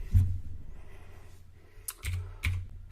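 Typing on a computer keyboard at the command line, a few scattered key presses with a firmer click at the start and a short cluster of taps near the end, close and fairly quiet.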